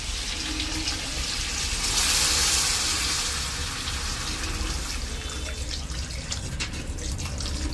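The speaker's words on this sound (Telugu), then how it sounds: "కొంచెం నీళ్ళైతే పోసుకుందాం." Water is poured into a pan of chicken curry with drumsticks, giving a steady broadband pouring and splashing sound that swells briefly near the middle, close up with no talk.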